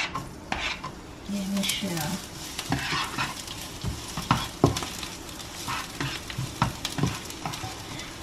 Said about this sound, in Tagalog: So, hunain ko muna itong bawang at sibuyas.